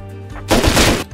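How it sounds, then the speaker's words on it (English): An automatic turret firing in the survival game Rust: a single short, loud, close burst of rapid shots lasting about half a second, with no talk over it. "Shooting randomly at me."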